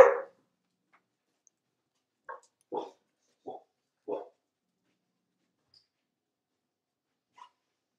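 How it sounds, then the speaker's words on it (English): A dog barks several times indoors in short separate yips and whimpers, fairly faint and spaced out over quiet, with no talk over it. "my dog's a little vocal"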